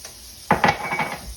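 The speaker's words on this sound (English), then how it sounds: "You can add cold water or whatever ones you want." Cold water is added to pot roast gravy in a pot and stirred, with a few close scraping and sloshing strokes that repeat briefly after a quiet start.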